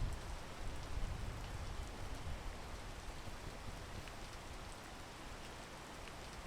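Steady rain in the climbing video game PEAK, a dense, even hiss of falling drops that holds at a constant level throughout with no voices over it.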